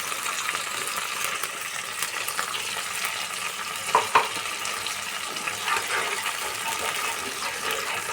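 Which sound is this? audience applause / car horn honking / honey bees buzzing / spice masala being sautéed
spice masala being sautéed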